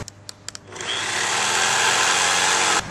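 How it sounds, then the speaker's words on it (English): A jigsaw cuts through a taped solid core door after a few sharp clicks, its blade buzzing in one steady, loud, close run for about two seconds before stopping. "So now you got your holes drilled and you're ready to go ahead with your jigsaw."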